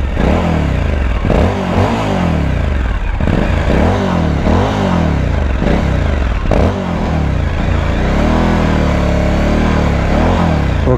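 A Suzuki V-Strom 1050 motorcycle fitted with a Mivv Speed Edge exhaust, running loud and close, blipped repeatedly so the engine rises and falls in a series of revs over its idle.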